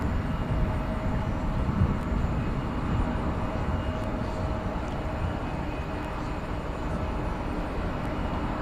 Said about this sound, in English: Cathay Pacific Flight 875, another A350-1000, is now on its way to, well, it's leaving the terminal.